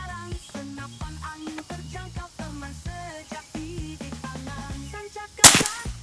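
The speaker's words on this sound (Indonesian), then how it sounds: "Untuk tembak akurasi kedua di besi yang kedua ya" A single sharp crack of a Sanca Gear Gen 5 air rifle firing at a steel target, sounding once near the end over steady background music.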